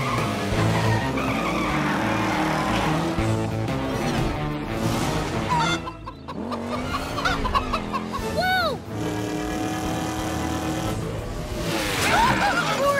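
Cartoon turbo tire racing off and skidding away, with screeching, squealing slides and zooming sweeps over busy music and sound effects while characters talk.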